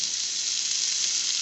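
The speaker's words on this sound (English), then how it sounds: "Now to this we will be adding in our tomatoes." Tomatoes hit a hot pan for a chana dal tadka, giving a loud, steady, close sizzle that holds evenly throughout with no talk.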